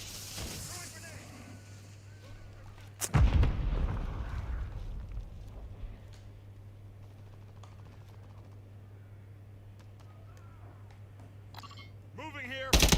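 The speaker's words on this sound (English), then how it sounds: "Throwing grenade." A grenade blast in the Call of Duty Modern Warfare III video game, a sudden loud boom about three seconds in that rumbles away, followed by quieter game noise and a sharp burst near the end.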